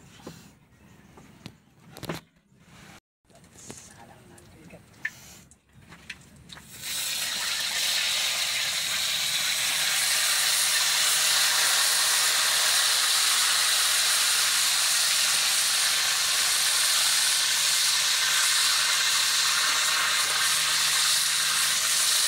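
Eel sizzling on a grill: a few quiet clicks and handling knocks, then a loud, steady hiss of searing that runs unbroken to the end.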